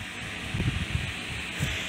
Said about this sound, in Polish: Tak, wiatrak kupiliśmy. I nie wiem, czy go słyszycie. Pewnie słychać szum